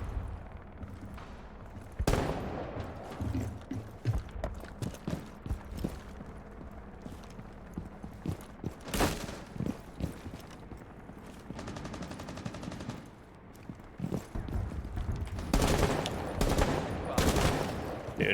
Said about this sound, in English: I'm trying to shoot